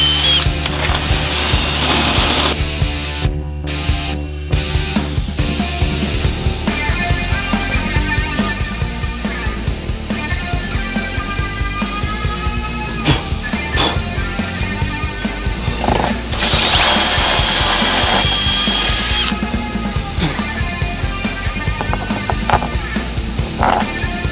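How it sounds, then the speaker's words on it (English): A power drill whines and grinds continuously for a long stretch, loud and close, its pitch shifting as it bites through a boat hull drilling a pilot hole. "it's time to drill that pilot hole and then the big hole"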